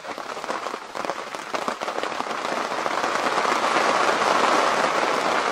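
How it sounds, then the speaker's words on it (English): Heavy rain drums steadily on the fabric of an arctic tent at night, a dense, close hiss of countless drops that thickens and grows louder toward the end, with no voices. "That is some serious rain."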